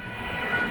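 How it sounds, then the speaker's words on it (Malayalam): Baiyappanahalli–Marikuppam MEMU train rumbling past at steady volume, a broad continuous rolling noise throughout the short stretch with no voice. "ഇതെനിക്കൊന്ന് ബയ്യപ്പനഹള്ളി മാരിക്കുപ്പം മെമു ആണെന്ന് തോന്നുന്നു."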